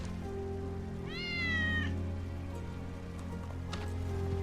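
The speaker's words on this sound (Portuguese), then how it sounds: "Hear that? That's Wedge's cat." Wedge's cat in Final Fantasy 7 Remake gives a single clear, drawn-out meow with a rising then falling tone, over a steady low hum and soft rain-like background.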